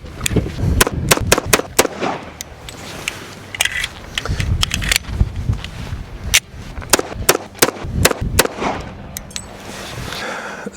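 Pistol shots from a Tisas 1911 at a range, a loud close volley of sharp cracks in irregular bursts, mixed with other shots going off nearby.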